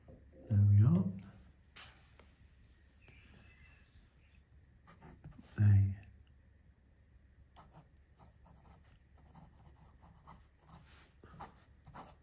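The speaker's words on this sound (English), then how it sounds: "I'm going to sit down now and see if we can do a little bit of writing." A fountain pen nib scratches faintly and intermittently across paper, interrupted by two short, louder breathy bursts early on; the light, close rasp of the strokes picks up again toward the end.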